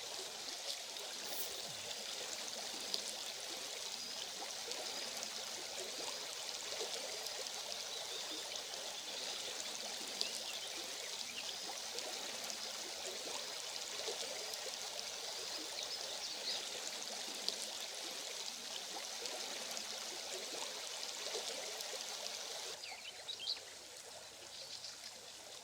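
A river flowing past a riverbank at sunset, a steady, even rush of water that stays faint and constant throughout, with a few birds chirping softly in the background and no talking.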